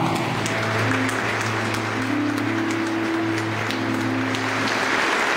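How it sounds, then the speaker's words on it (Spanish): A Miami crowd on its feet gives Cuban activist Berta Soler a standing ovation, with sustained, dense applause filling the whole stretch at an even, loud level over a low steady hum. "Soler fue recibida con una ovación de pie"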